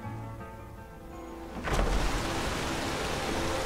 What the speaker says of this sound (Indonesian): Oh enggak, suara air itu.